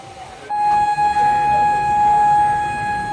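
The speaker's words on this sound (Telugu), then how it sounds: "మాటల్లోనే మన ట్రైన్ తాంబరం నుండి బయలుదేరిపోయింది" The Chengalpattu–Kakinada Circar Express pulls out of Tambaram station. A long, steady horn or whistle tone sounds over a rumbling rail bed and a busy platform background, and it stays loud throughout.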